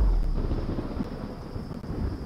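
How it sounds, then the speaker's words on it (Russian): A deep, rumbling roll of thunder fills the space with a steady wash of rain and wind, loud and continuous, with no voices. "Дождь начался! Гроза!"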